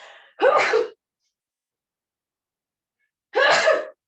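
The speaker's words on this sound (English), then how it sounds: "hold on, I got to sneeze." Two sharp, close sneezes separated by a few seconds of silence, each with a quick breathy burst.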